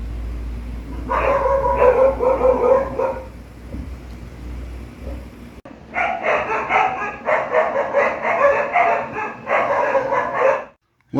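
A dog barks in two long bursts of repeated, fairly close barks with short yips, separated by a pause and ending abruptly, over a low rumbling background.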